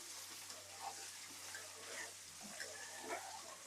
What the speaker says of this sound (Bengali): এখানে হলুদ আর লবণ দিয়ে ডিমগুলো ভেজে নিচ্ছি সুন্দর করে